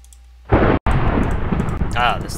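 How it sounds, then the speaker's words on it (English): A sudden loud crack of thunder in the Minecraft modpack FTB Unleashed bursts in, briefly cuts out, then rumbles on heavily, with a voice-like sound near the end. "Ah, this thunder is very loud."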